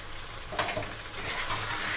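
Ground masala paste of garlic, cumin, ginger and green chilli fries in oil with a steady soft sizzle, stirred gently with one brief scrape, no talking.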